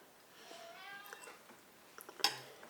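A house cat meows softly several times at moderate distance in a quiet room, with a brief clatter near the end.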